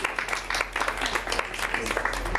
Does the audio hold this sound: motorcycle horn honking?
no